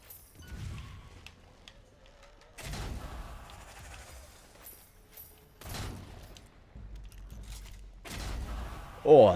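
Shotgun blasts in the video game Strange Brigade, three or four booming shots spaced a couple of seconds apart with quieter game ambience between them.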